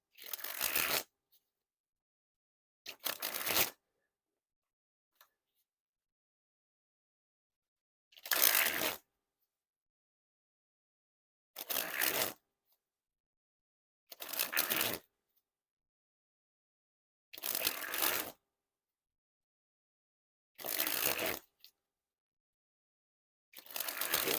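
A brand-new USPCC-printed Broken Crowns playing card deck is sprung repeatedly, giving eight separate crisp, fluttering riffle bursts, each about a second long, spaced by silent pauses.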